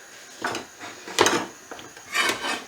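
A frying pan is pulled out for cooking scallops, giving a few scraping, knocking clatters of metal against wood and other cookware, close and fairly quiet, in bursts over a couple of seconds.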